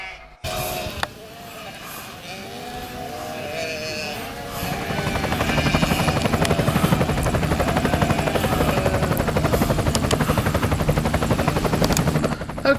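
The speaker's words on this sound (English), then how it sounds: "I'm up in the sky in a helicopter." A helicopter flies overhead. A voice and other sounds come first, then a loud, steady rotor thrum with rapid regular pulsing builds and holds to the end.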